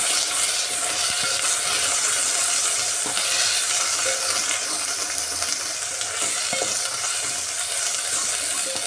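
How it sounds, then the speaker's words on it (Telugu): Ginger paste frying in a pan for a potato curry makes a continuous, loud, close sizzle with faint stirring clicks and no voices. "ఒక 2 నిమిషాలు బాగా ఫ్రై అయ్యాక అల్లం పేస్ట్ వేసుకుందామండి."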